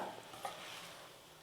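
Potato masala sizzles and is stirred in a pan, with soft scraping of a utensil against the metal, quiet and close.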